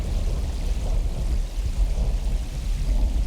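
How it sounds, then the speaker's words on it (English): A thunderstorm in the video game Uru: Complete Chronicles: a continuous low rumble of thunder blended with a steady hiss of rain, fairly loud and without speech. "There's a storm coming."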